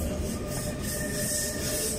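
Train pulling into Praterstern station in Vienna, a steady loud rumble of rail wheels with a faint high squeal running over it, continuous throughout.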